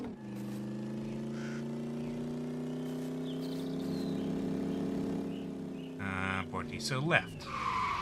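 A truck in a video game drives on and speeds up slowly, its engine giving a steady drone that climbs gradually in pitch. Near the end a voice speaks briefly and a few sharp noises break in.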